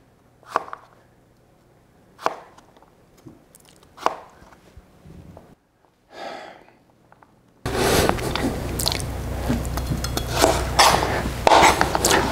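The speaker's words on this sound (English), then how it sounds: "So you're just cutting across the sticks you just made and making little dices" A knife dices potato sticks on a cutting board, starting with a few sharp, evenly spaced chops close by, then shifting to a dense run of rapid cutting and scraping taps.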